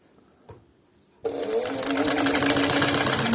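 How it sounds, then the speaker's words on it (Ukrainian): A sewing machine with a slipping drive belt, a Decor 323 heavy-duty harness-making machine, starts up and runs steadily with a loud whirring drone, motor straining slightly, after a quiet start with a small knock. "Да, то ремінь буксує. Ще мотор не тягне, все мотор тягне, ремінь буксує."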